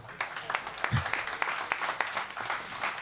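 Studio audience applauding at a live summer talk show, scattered, uneven claps from a modest crowd, moderately faint, with a voice murmuring over them.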